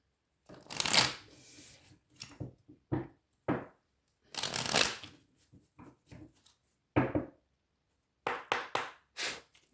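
Oracle cards from a love-themed deck being shuffled close by, in a series of quick crisp riffling bursts separated by short pauses, with no talking.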